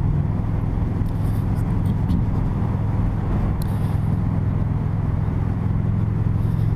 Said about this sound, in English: It's only a 5-speed, so it winds up a little bit more than that NC700.